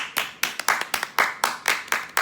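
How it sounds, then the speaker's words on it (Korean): A short round of clapping for the director after a Stray Kids shoot: a few hands clap in a quick, slightly uneven rhythm, close and bright, with no voices. "잘 찍어주신 감독님 박수"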